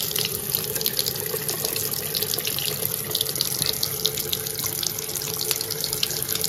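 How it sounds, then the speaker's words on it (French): A faucet opened to full flow pours steadily into a sink drain fitted with an anti-odour trap. The rushing water is close and continuous, with no talking. "J'ouvre le robinet à fond pour que vous puissiez voir."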